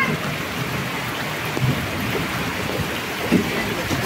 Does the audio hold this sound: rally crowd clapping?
no